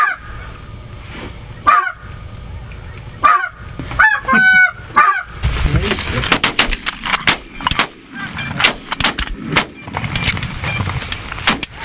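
Geese honking overhead during a Pennsylvania goose hunt, followed by a rapid volley of loud, sharp 10-gauge shotgun blasts spaced across several seconds, with more honking between the shots.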